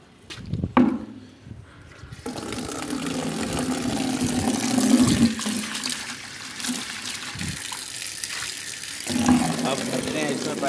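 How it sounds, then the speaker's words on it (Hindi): Water pours steadily into a bucket outdoors at a small home mini zoo, a continuous rushing splash running loud and near for several seconds, with a voice talking over it. "पानी का इंतज़ाम करते हैं, पानी भरते हैं।"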